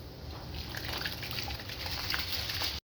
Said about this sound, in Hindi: पानी हमारा उबल गया, हम चावल डालते हैं।